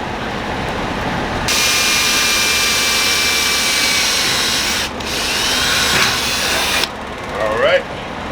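A power drill bores a hole into the steel drum of an ugly drum smoker, a loud, high, steady whine with metallic grinding that pauses briefly, resumes and ends in a few rattling clicks.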